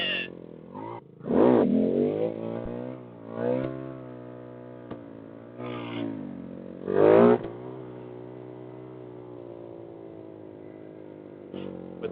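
A motorcycle engine idles with a low steady rumble, broken by several short throttle blips that rise and fall, heard close with no talk.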